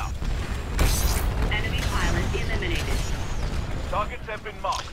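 Cluster missile blasts in the video game Titanfall, a series of deep booming explosions and debris crackle across the whole span, with someone talking over the action.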